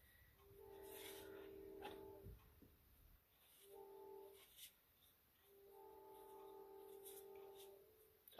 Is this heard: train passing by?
yes